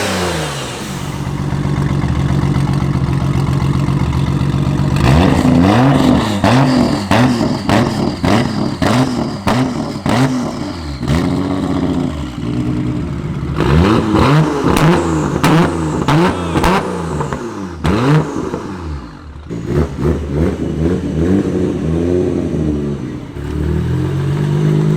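A Nissan Skyline R34 GTR engine revs hard while driving, with repeated loud rising and falling pulls and gear changes, continuous and close, with no talking.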